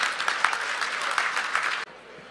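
Audience applause at a hospital fundraising gala, a dense run of clapping that ends abruptly, leaving faint room tone.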